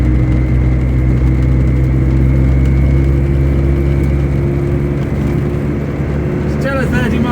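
A car cruises at about 30 mph over a potholed road, its engine and road noise forming a loud, steady, low drone that fills the cabin, with a brief voice near the end.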